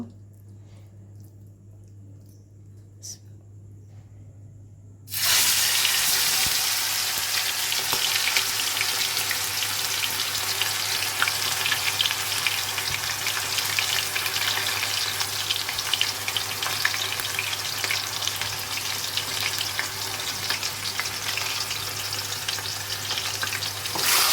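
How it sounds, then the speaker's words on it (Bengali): Marinated meat frying in a pan for a Saudi Arabian dish. A quiet background hum gives way to a sudden loud, steady sizzle that continues close and constant with occasional stirring. "ম্যারিনেট করে রাখা মাংস এখন হচ্ছে ভেজে নেব"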